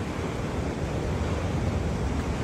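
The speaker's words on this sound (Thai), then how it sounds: "ดูนี่คลื่นนะ" Ocean surf on a Bali shore keeps up a constant broadband roar, loud and close, with wind buffeting the microphone and no voices.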